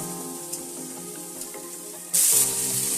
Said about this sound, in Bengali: এবারে শিম আর বেগুনটা দিয়ে খানিকক্ষণ নাড়াচাড়া করে নেব।